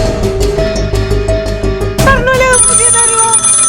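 An old landline telephone rings on a TV entertainment show stage, its loud electronic ringing tones rising over background music and lingering to the end.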